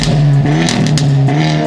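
A Hyundai Elantra N with its resonator removed revs hard nearby, its loud raspy exhaust drone rising and falling through a quick blip.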